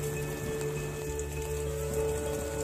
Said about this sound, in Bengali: কিন্তু সকাল থেকে মুষলধারে বৃষ্টি হচ্ছে